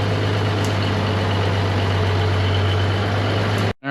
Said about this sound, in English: All right, we're pulling in the tractor.